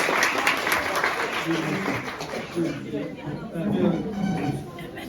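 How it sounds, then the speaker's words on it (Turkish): A crowd at an iftar event during a visit to the TOBB girls' dormitory in Kırşehir claps steadily for the provincial chairwoman, a dense continuous applause mixed with chatter and a few chuckles throughout. "bence İl Başkanımıza bir alkışlayalım"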